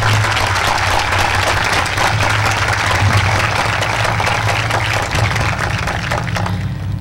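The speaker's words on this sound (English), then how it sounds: "Let's give them all a round of applause," Applause at a 2001 high school graduation ceremony, a broad sustained roar of many clapping hands in a large space, loud and steady throughout with a low hum beneath.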